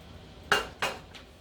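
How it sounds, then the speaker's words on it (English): Pasta, sautéed zucchini, squash and peppers are tipped into a pan: two sharp metallic clanks of utensil on cookware, close and distinct, followed by a faint third tap, with no talking. "I am now going to add my pasta, my sauteed zucchini, squash, and my peppers."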